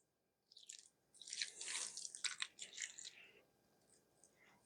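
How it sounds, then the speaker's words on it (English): Fresh lemon juice is poured onto an Iraqi salad of tomato, cucumber, chickpeas and red beets, giving a short faint wet splatter and dribble of liquid over chopped vegetables, close and quiet with no talk. "Then I'm going to pour my lemon juice in."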